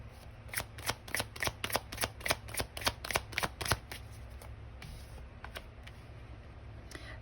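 Tarot cards being shuffled up close in a quick run of about fifteen crisp riffle snaps, then a few softer taps and slides as the deck settles in a quiet room.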